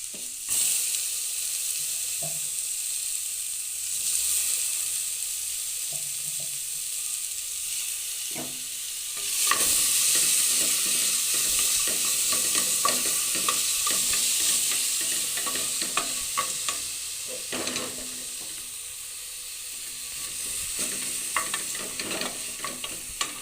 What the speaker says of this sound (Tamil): நல்லா வதக்குவோம்.